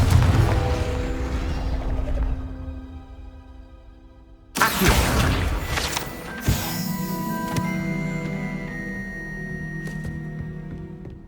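A Confringo blasting curse goes off in Hogwarts Legacy: a sudden loud burst halfway through, then a second thump and a long ringing, crackling tail over the game's music, no voices.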